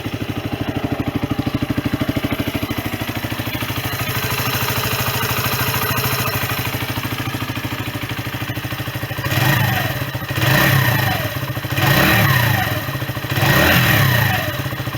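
A Sinnis Bomber 125 budget motorcycle engine, freshly repaired and serviced, runs at a steady close idle, then rises in four short throttle blips that each fall back to idle.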